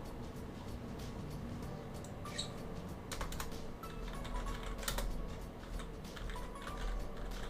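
Typing on a computer keyboard to jot down notes, quiet clusters of close key taps with a few louder bursts over a low background hum.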